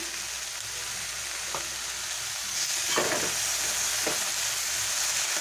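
Okra fries in a pan with turmeric, giving a steady close sizzle broken by a few soft scrapes of a spoon stirring the mix.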